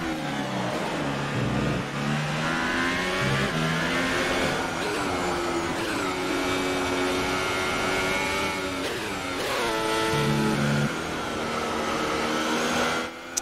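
A Sauber Formula 1 car engine over-revving in the F1 2018 racing game, a loud, continuous high-pitched whine with rising and falling pitch sweeps as the revs climb and drop.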